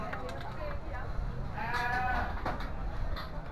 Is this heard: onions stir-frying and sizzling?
no